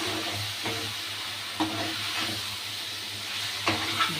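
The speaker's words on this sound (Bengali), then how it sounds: "আলুটা দিয়ে দিলাম। আলুর সাথে একটু কষিয়ে নেব।" Potatoes sauté in spices for a Bengali fish kalia curry. A soft, steady sizzle carries on close by, broken by a few scraping stirs in the pan.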